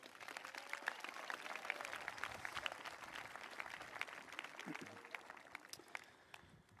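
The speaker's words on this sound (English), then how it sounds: "Let's have another round of applause for our choir." Applause for a school choir at a high school graduation ceremony rings out as a steady, dense patter of clapping across a large hall, fairly faint and tapering near the end.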